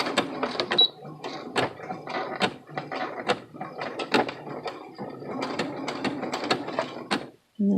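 Sewing machine stitching a lock stitch with an invisible zipper presser foot, rapid mechanical clattering in uneven bursts, close and clear with brief pauses and a short gap near the end.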